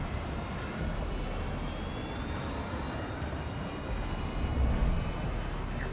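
Missile in flight toward its target in Modern Warfare 2, a sustained, loud rushing roar with a faint high whine, steady and swelling slightly near the end, with no speech.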